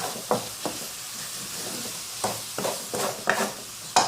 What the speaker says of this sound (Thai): นี่เราผัดเคี่ยวน้ำตาลฝักกับฟักกับน้ำตาลแล้วก็ผัดเคี่ยวจนแห้งนะคะ